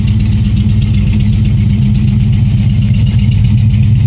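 A 1986 Ford Mustang 5.0 LX idles through a true dual exhaust with straight-through mufflers and no catalytic converters, giving a loud, steady, deep rumble that holds without revving.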